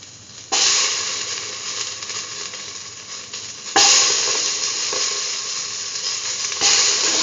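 Tomato pieces frying in a pan for a curried beetroot and mung bean dish, a steady loud hiss and crackle that flares up in fresh bursts as more pieces hit the hot oil or get stirred.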